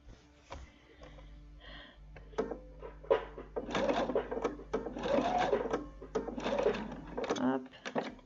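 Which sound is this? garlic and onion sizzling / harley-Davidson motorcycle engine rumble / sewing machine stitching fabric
sewing machine stitching fabric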